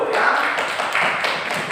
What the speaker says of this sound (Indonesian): Baik, tepuk tangan dulu ya.